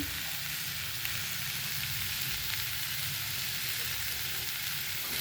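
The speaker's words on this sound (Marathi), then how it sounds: "पुन्हा एकदा भाजी आपण परतून घेऊ" Steady sizzle of aloo mutter bhaji, a potato and pea curry with masala and coriander, sautéing in a pan, continuous and close with faint stirring scrapes, no talk.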